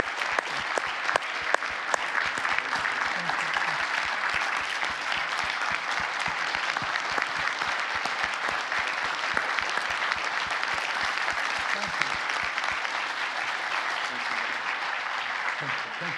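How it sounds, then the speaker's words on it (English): An audience at a conversation event with a WWII veteran breaks into steady, dense applause that holds at an even level for about sixteen seconds, with no voices over it. "join me in a round of applause for Tony Kruszewski."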